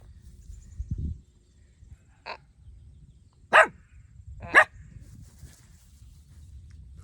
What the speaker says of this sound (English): Someone just pulled in the driveway, so he's barking at the car